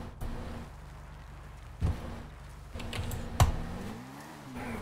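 Computer keyboard keys tapped during GTA 5 play, a few scattered clicks and a couple of sharper thumps over quiet game hum, close and without talk.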